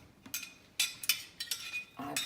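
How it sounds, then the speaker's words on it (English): A cup clinks down onto a kitchen countertop among several light, sharp knocks and taps of dishware, close and fairly quiet with gaps of near silence between the clacks. "Now I'm going to use this cup, so I'm just going to leave it out on the countertop"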